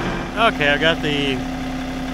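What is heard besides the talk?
John Deere 4075R tractor engine running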